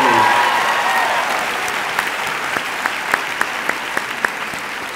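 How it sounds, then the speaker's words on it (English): Clapping from the audience at a high school graduation, loud at first, then thinning to scattered individual claps, with a voice briefly audible at the very start. "Give them a round of applause"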